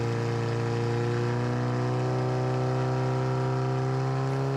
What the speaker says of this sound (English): you can hear the load change on the engine since the valve is actually moving and changing the amount of water entering the brake